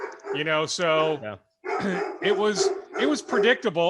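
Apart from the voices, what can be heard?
dog barking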